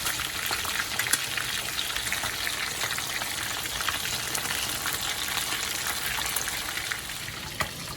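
Fish frying in a pan of hot oil for a Jamaican brown stew fish, giving a steady, loud, dense sizzle with crackles and pops throughout, and no talking.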